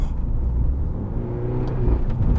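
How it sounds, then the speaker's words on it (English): A modified Mini JCW Clubman fitted with a loud Remus exhaust, H&S lowering springs and an upgraded air filter rumbles close by, a deep, steady, throaty drone that swells slightly toward the end. "We've got a very loud and leery Remus exhaust, which I love. It's how a car should sound."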